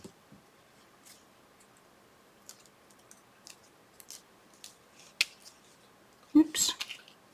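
Paper leaves cut apart with scissors for a folio album: a few faint, sparse snips and clicks at close range, then a louder cluster of cutting noises near the end. No one talks.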